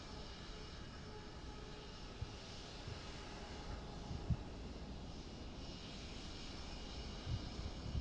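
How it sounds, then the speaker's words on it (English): A JetBlue airliner in Microsoft Flight Simulator 2024 gives off a steady, faint jet engine drone, a continuous broadband roar with no talk over it. "So yes, this JetBlue that we're seeing is the one that is on Flight Radar now."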